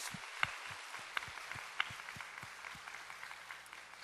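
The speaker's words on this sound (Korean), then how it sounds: "우리 하나님께 큰 영광의 박수 올려드리겠습니다" A church congregation at a Korean Sunday service claps in praise, a soft, uneven patter of scattered hands with a few sharper claps standing out, fairly distant and quiet.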